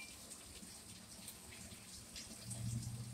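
Water flows steadily through the inlet valve of a Kenmore washing machine during a diagnostic cycle, a soft continuous rush that swells louder toward the end.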